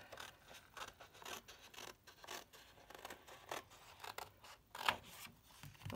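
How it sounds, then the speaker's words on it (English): Scissors snip around a paper butterfly cut out for a handmade card, a quick run of crisp, close cuts with small rustles of paper between them, no voices. "So you need to snip around. I'm going to cut both those out."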